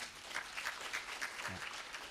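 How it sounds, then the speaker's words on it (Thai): Faint applause from an audience at a business seminar, a soft, even patter of many hands clapping, with a brief murmur of a voice partway through. "นั้นปรบมือให้กับทุกท่านด้วยครับ"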